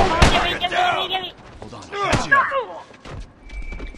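Sharp sniper shots crack in a video game, two loud close reports about two seconds apart, with excited talk and game noise between them.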